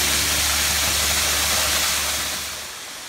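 A waterfall roars in a dense, steady hiss from close by at Lehigh Gorge, fading slightly toward the end, with no talking.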